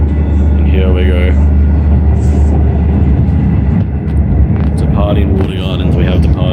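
A Comeng suburban train pulls out of Watergardens station on the Sunbury line, heard from on board as a loud, steady rumble of motors and wheels with rising whines, while a voice talks over it.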